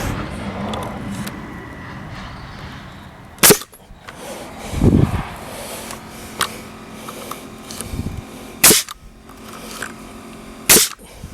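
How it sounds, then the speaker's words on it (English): A nail gun fires nails into a wooden fence frame outdoors, four loud sharp bangs spaced a couple of seconds apart, with knocking and handling noises between them and no talk. "lift it up until it's level, and then fire the nails in."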